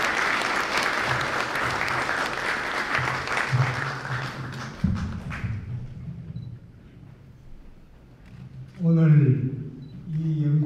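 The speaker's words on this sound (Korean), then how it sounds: "큰 박수로 맞이해 주시기 바랍니다" Audience applause at an honorary art doctorate ceremony at Myongji University fills the first half, dense and steady, then dies away into quiet before a speaking voice begins near the end.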